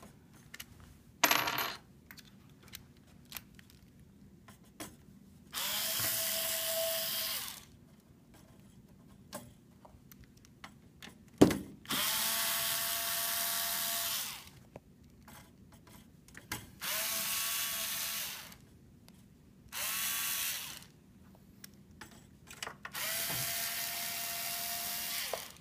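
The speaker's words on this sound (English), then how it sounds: "So I'm just going to show you how to remove the cover plate. So it's just 4 screws." Four cover plate screws removed from a RADAR core kit with a power driver, heard as several sustained whirring bursts of a few seconds each, separated by quiet gaps with faint clicks and a sharp knock, close and without talk.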